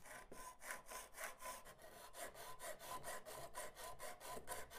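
A hand saw cuts piano hinges to size, moving back and forth in a quick, steady rhythm, each stroke a rasping pulse, close and clear with no voices.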